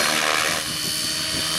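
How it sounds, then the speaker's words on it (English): An RC helicopter flies inverted 3D aerobatics, its rotor whining loudly and steadily in a high buzz that dips briefly midway. "as you're flipping your helicopter"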